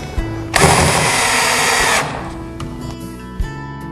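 A power drill whirs loudly for about a second and a half, driving screws into a Murphy wall bed, then stops, followed by light knocks and handling sounds.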